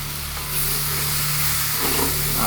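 Food sautéing in a hot pan with garam masala, a steady loud sizzle and frying hiss with faint stirring, no voices.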